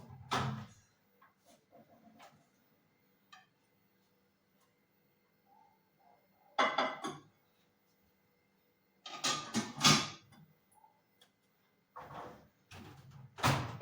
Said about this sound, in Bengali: চলুন এবার এটা আমি মাইক্রো ওভেনে ঢুকিয়ে দিই।